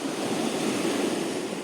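Autumn surf on the Black Sea shore at Koktebel in Crimea, a continuous close wash of small waves rolling in under wind noise.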